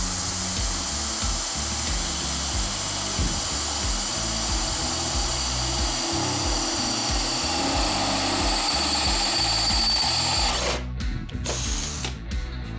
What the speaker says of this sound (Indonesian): untuk pengeboran besi bisa dilihat ya, tenaganya sangat besar untuk mesin bor cordless ya